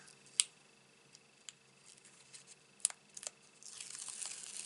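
Backing paper comes away from adhesive fun foam for a craft die: a few faint, sharp clicks and crinkles, then a soft, lengthening rasp of peeling near the end, all close and quiet.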